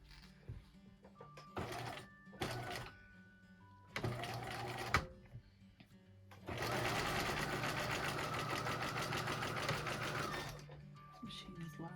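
A sewing machine stitches strips of dryer sheets into a quilt, running in short bursts near the start and then a long steady loud run, with quiet talk in between.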